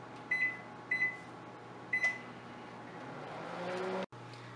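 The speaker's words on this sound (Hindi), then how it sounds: "65 सेकंड के लिए हमने माइक्रोवेव में रखा।" Microwave oven running while cheese crisps cook inside, a steady low hum with three short electronic beeps early on and a rising whir before a sudden cut near the end.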